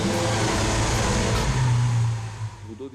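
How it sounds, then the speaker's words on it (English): Lamborghini Aventador LP700-4 V12 engine revving, a loud steady roar that swells around the middle and then drops away, heard alone. "The V12 motor represents what for us is the sound, the music of the car"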